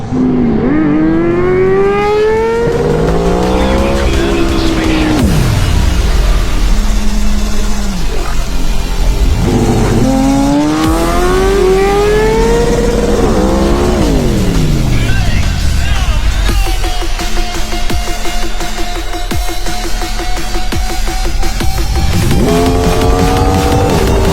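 A 636cc stunt motorcycle roars loud and close, its engine revving up in repeated rising sweeps with gear changes from second to third while held in a wheelie, the revs dropping and climbing again across the run.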